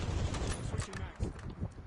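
Rapid automatic gunfire rattles in bursts during a Warzone match, with loud, close volleys of shots repeating through the moment.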